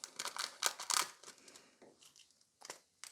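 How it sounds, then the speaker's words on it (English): Scissors cut through thin gold transfer foil for nail art, a quick series of crisp, close snips and crinkles followed by a pause and a few final cuts. "we are going to use the gold transfer foil and just cut it"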